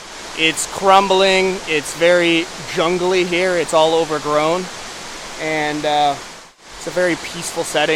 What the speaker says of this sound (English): Got that white noise of the waterfall just tumbling away.